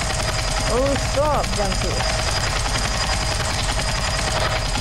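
Helicopter in Roblox Airplane Simulator, a constant loud rotor and engine drone through the whole stretch, while a young voice briefly speaks over it.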